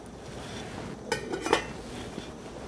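A metal lid is set onto a pot of stuffed cabbage soup, giving a brief cluster of clanks and rattles, close and moderately loud, over a low steady background.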